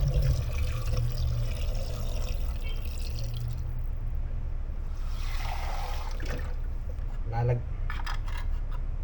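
Water, 600 ml, poured into a pressure cooker while making chicken feet adobo, a steady soft splashing stream heard close under a speaking voice.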